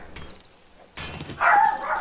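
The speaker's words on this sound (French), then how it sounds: "Oh les chiens." Dogs bark and yip in the video game 7 Days to Die, short sharp calls rising near the end over a low game background hum.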